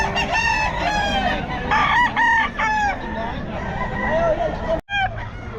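A Kelso gamefowl rooster crows repeatedly at the Bocaue market, loud and close, the harmonic crows repeating in bursts over busy background noise and clucking.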